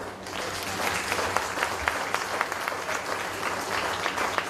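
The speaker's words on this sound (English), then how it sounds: "Miss Kelly, can we get a louder round of applause from the youth?" A crowd at a young workers' forum applauding steadily throughout, a dense patter of clapping with a few sharper claps standing out.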